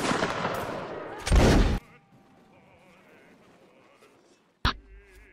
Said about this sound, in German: Das war ein Schuss, ja?